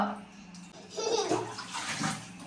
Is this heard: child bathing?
yes